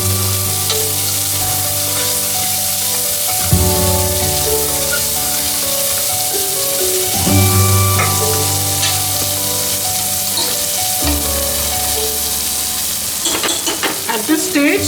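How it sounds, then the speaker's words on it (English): Onions and asafoetida frying in hot oil, a loud, steady close-up sizzle with occasional stirring scrapes, running continuously with no one talking. "the onions to fry a little faster"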